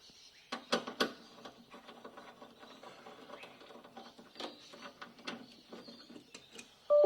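T25 screws being removed from a Passat B6 car head unit: a few sharp clicks and ratcheting ticks from a screwdriver, close and moderately loud, in a series of short bursts with quiet gaps.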